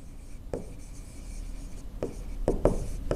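Chalk or marker writing on a board during a geometry lesson on triangle angles: several short scratchy strokes with brief pauses, close and fairly clear, with no talking.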